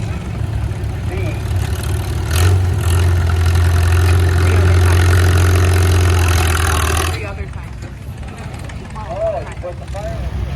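A 1940 Farmall B antique tractor works at a tractor pull, its engine a loud, steady droning rumble that holds for several seconds before dropping to a lower, rougher level, with voices faintly present.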